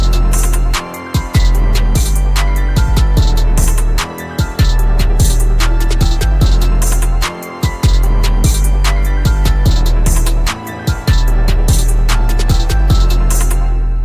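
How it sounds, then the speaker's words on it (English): A beat made in FL Studio plays loud and alone, with punchy repeating drum hits and layered synth parts, briefly dropping out for short breaks every few seconds. "So I have this beat that I was working on just now"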